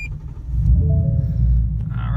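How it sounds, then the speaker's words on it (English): A turbocharged Ford Mustang engine cranks and fires up, settling into a loud, steady low rumbling idle close by, with no talking over it. "All right, she starts right up."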